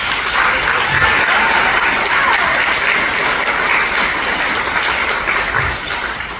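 An audience gives sustained applause at a marching band's end-of-season celebration, honouring the band camp staff. Dense, steady clapping lasts about six seconds before easing slightly at the end.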